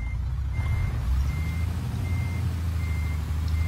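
A reversing truck in Euro Truck Simulator 2 beeps in regular intervals over a loud, steady low engine rumble, with no talking.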